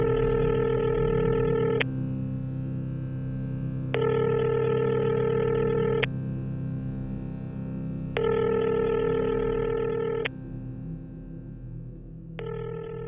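Telephone dialing tones sound as a phone number is dialed, with long steady tone bursts repeating in an even rhythm over a constant low hum, fairly loud and close, with no talking.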